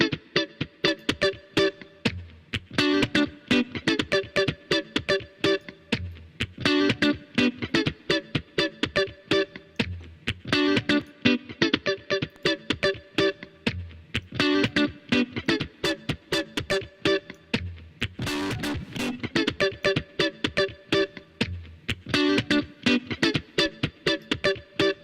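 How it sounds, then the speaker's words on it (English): A modern disco track run through the Mr. Root plugin, with heavy distortion and added harmonics, pumping in a steady dance rhythm with punchy, gritty beats alone for about 25 seconds. "as you can hear, it adds a lot of distortion, a lot of harmonics"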